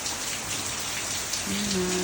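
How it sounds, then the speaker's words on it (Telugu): Steady rain pours down outside a resort balcony in Coorg, a dense even hiss of drops close by, with a brief faint tone near the end. "వర్షం పడుతుంది."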